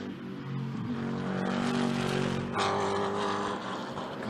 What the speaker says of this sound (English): The car sounds and looks absolutely awesome.